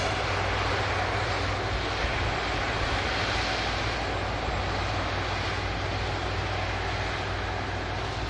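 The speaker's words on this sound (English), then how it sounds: "Saudi now, just continuing the taxi for departure" A Saudi airliner taxiing for departure at Manchester Airport, a constant broadband jet engine whine and rumble, loud and unbroken throughout.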